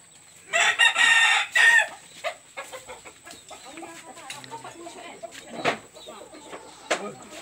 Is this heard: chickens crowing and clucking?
yes